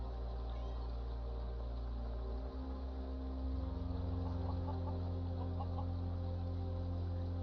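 A chicken clucks in the Skyrim video game, soft repeated clucks over a steady low ambient drone.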